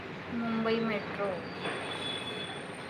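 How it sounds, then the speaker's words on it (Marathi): A Mumbai Metro train rolls along with a faint, steady rumble and thin high squeal, while brief voices murmur early on. "मुंबई मेट्रो."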